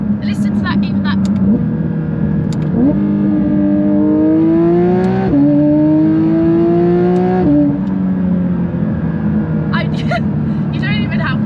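A Porsche 992 GT3 RS pulls hard through first, second and third gear, its engine note climbing steeply in each gear and dropping sharply at every upshift, loud and close with a strong rasping tone.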